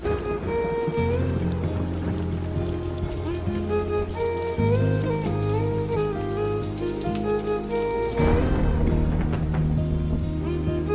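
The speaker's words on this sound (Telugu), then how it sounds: "but this stupid rain spoiled everything" Rain falls steadily for the whole stretch, a dense, continuous patter on surfaces heard alongside a musical film score, with no speech.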